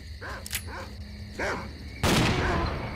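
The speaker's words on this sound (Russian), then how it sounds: "Собаки." Dogs in the video game S.T.A.L.K.E.R. Clear Sky bark and snarl in several sharp, close yelps, then a loud gunshot-like burst cuts in near the end.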